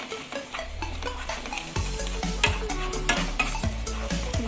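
Garlic with ground coconut and poppy seed being sautéed in a pan, a low steady sizzle beneath repeated light scrapes and taps of a spatula stirring, close and fairly quiet.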